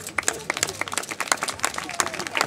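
A small crowd gives brief, scattered applause for children after a stone-throwing catapult shot at a medieval war-machine demonstration, with sharp uneven claps at close range.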